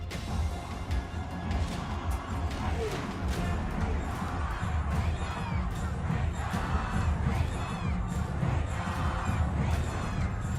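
A large street crowd in Iran chants slogans, a dense continuous roar of many shouting voices with rhythmic surges, loud and sustained throughout.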